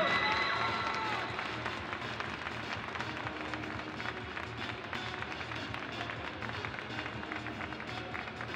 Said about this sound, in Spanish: Que suenen fuertes los aplausos